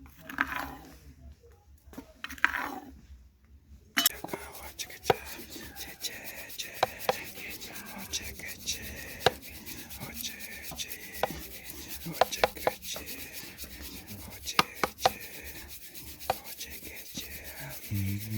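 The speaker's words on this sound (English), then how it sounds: "We go to grind this one more time." Arabica coffee beans hand-ground in Tanzania, a steady rough rasping grind with gritty crunches, preceded by a few brief scraping strokes, close and continuous.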